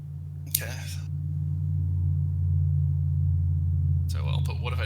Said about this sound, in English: Did y'all hear that loud truck?